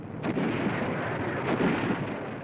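A WWII mortar firing during the 1943 invasion of the Marshall Islands, heavy muffled booms on an old newsreel soundtrack, two dull thuds over a rumbling noisy background.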